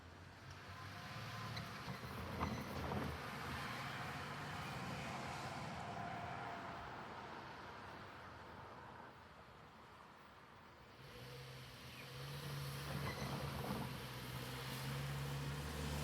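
A long, fast CSX double-stack freight train rumbles past at close range, a steady broad roar of wheels and cars that dips briefly and then swells again, with no talk.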